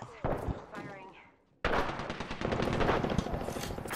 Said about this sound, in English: This shotgun sucks ass!